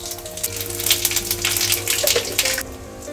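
Whole cumin seeds sizzle in hot oil already holding bay leaf and dried red chilli, a steady close frying crackle with bright spits and pops, no talking.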